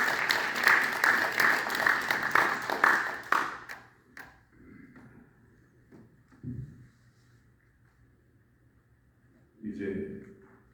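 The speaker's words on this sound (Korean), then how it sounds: "우리 성장로님을 위해서 다시 한번 감사의 박수를 해주시기 바랍니다." A church congregation at a year-end testimony gathering claps in thanks for an elder, a dense round of applause lasting about three seconds that stops abruptly, followed by quiet room noise, a few soft knocks and a brief voice.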